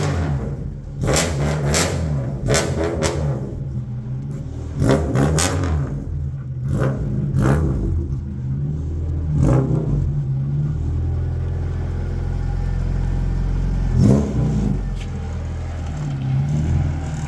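An Acura Integra built for Kanjo-style street racing revs hard on a test drive, its engine rising and falling in repeated sharp pulls with rumbling lulls between, close and loud inside the car.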